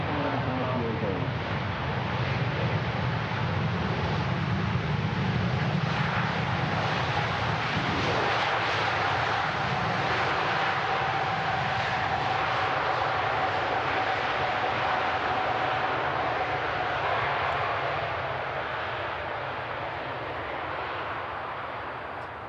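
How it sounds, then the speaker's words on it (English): An Emirates Airbus A380 landing on a wet runway at Manchester Airport, a loud, sustained roar of engines and spray that swells and then slowly fades, with a person talking over it. "What an awesome arrival. Emirates 380."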